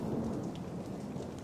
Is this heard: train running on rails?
no